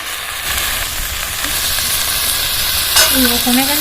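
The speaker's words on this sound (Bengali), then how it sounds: "ভালো করে নাড়াচাড়া করে দেবো" Cauliflower and green peas, seasoned with salt and turmeric, fry in a pan while being stirred: a continuous close sizzle and hiss with scraping spoon strokes that grow more active toward the end.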